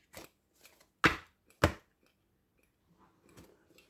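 An oracle card deck being cut by hand: a few crisp papery slaps and snaps, two of them louder and close, followed by a soft shuffling rustle of cards.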